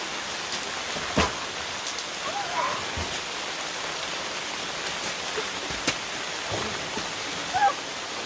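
Heavy rain pours steadily at a campsite, a dense continuous hiss with scattered louder drops and taps, fairly close.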